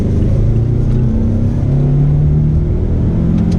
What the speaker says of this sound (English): I like the sound coming from the engine. It's not buzzy, it's not annoying, but it has a nice, almost like a throaty rumble to it